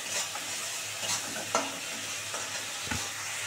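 Spice masala with a little sugar sautéed in a pan for paneer ghugni: soft continuous sizzle with occasional spatula scrapes and knocks against the pan, close and fairly quiet.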